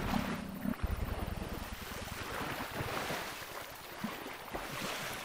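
Water splashing and rushing as a dolphin swims through the sea in the video game Tchia, a steady wash of surf-like noise with low churning, no voices.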